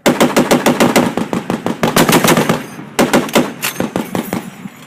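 .50 caliber machine gun fire rips out in loud, close bursts of rapid shots, a long string followed by a short pause and a second burst.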